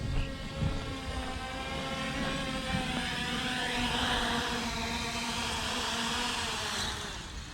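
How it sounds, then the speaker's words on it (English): A JJRC X3P GPS quadcopter lands itself, its rotors giving a steady, whining buzz with layered harmonic tones that hold fairly constant and close throughout, with no talking. "now the quadcopter is supposed to land itself"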